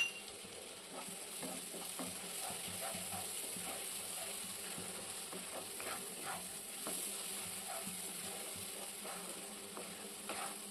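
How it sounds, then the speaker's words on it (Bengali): Kasuri methi frying with spices in a pan: a faint, continuous sizzle with occasional light stirring scrapes, quiet and close, with no talking. "কস্তুরি মেথিটাকেও ভালো করে ভেজে নিয়েছি।"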